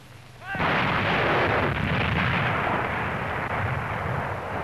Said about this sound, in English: they shoot the New Year in